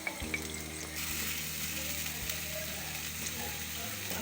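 A steady sizzle of onion paste with garlic and ginger frying in a pan, with occasional scraping and stirring clicks, continuous and fairly close, with no voices.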